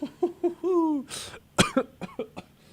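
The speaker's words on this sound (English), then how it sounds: "As he coughs." A sharp cough bursts out amid a voiced, drawn-out sounds and speech, followed by a few short choppy vocal noises.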